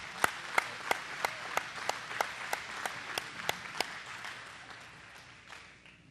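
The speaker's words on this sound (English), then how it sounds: "One more round of applause for Champs." Applause from an audience at a Champs Sports weekend gathering: a clear run of sharp, evenly spaced claps stands out over softer crowd clapping, then the rhythm slows and the sound fades away.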